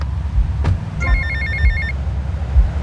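A payphone rings in Grand Theft Auto Vice City, a short burst of repeated electronic trills lasting about a second over low ambient game rumble and occasional thuds.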